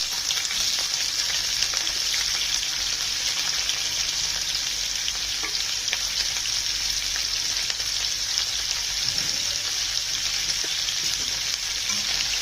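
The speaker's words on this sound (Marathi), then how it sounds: "बोंबील तेलामध्ये भाजून घ्यायचे।" Bombay duck (bombil) frying in a spoonful of hot oil, a loud, dense, unbroken sizzle and crackle that holds steady throughout with faint occasional stirring.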